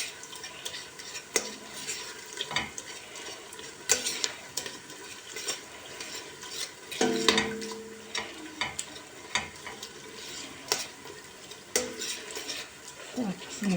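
Food is sautéed in a pan on a stove, with a low continuous sizzle broken by frequent clinks and scrapes of a utensil stirring against the pan, recorded close up.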